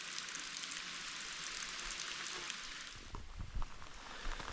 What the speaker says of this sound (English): It is actively raining.